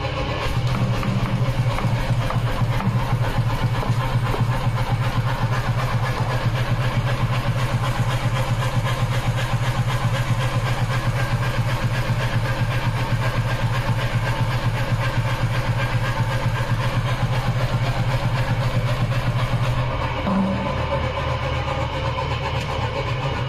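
A blacksmith's power hammer runs steadily after an oil change, a continuous mechanical rumble with a fast rhythmic pounding that carries on for about twenty seconds before briefly dropping off.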